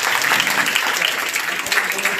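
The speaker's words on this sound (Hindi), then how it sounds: "ताली बजाओ बच्चे के लिए।" Applause for a student at a school motivational event, steady clapping from a group filling the room throughout, with voices mixed in.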